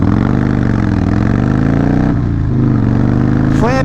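A 2017 Harley-Davidson CVO Breakout pulling away from a dead stop, its loud, close engine rising in a steady growl of deepening revs, with a brief shift-like change near the middle and climbing again at the end.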